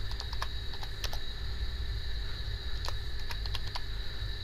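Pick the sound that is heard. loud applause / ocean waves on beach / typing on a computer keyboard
typing on a computer keyboard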